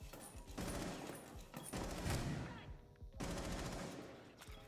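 Rapid automatic gunfire bursts from a Rainbow Six Siege match, several dense rattling volleys in quick succession with brief pauses between them, loud and close, with faint voices in the background.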